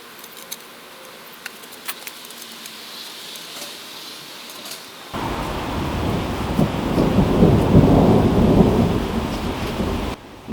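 Rolling thunder from a summer afternoon storm in Georgia: quiet ambience with faint ticks at first, then a sudden loud, deep rumble swells and sustains for several seconds before ending abruptly, with rain-like hiss mixed in.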